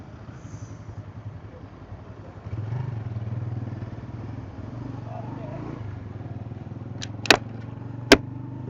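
A Honda CG 125 motorcycle ridden on a road trip through Sindh near Thatta. Its engine rumbles steadily and close, with a low drone that grows louder a few seconds in, and two sharp clicks or knocks near the end.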